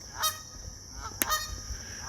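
Outdoors on a morning walk in Appleton, Wisconsin, geese let out a few brassy honks: one early, then a quick pair later, standing out clearly against soft ambient hush with no voices.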